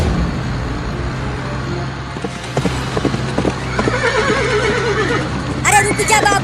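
A cartoon horse racing: rapid galloping hoof clip-clop with whinnies and neighs, fairly loud and continuous, a low engine-like drone and occasional voices beneath.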